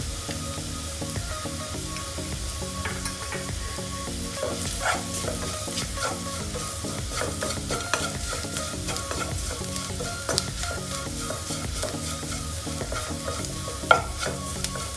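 Raw curry powder, turmeric, chili powder and roasted curry powder frying in a pan for Sri Lankan pineapple curry, with a continuous loud sizzle and frequent scraping clinks of stirring throughout.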